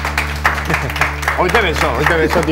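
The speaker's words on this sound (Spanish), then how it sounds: "Me parece flojito el aplauso, ¿eh?" Audience applause at a magic show on a television stage, moderate clapping heard beneath someone speaking over it.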